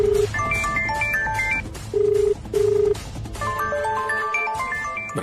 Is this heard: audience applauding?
no